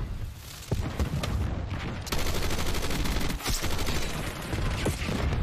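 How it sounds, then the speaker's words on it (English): Close automatic gunfire in Call of Duty: Black Ops 6 on the Nuketown map, fired from a mounted position down a lane, a steady rapid rattle of shots running almost without pause, loud and dense. "I'm mounting up here, and I am having shots down this lane."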